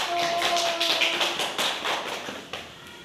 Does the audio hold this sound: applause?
yes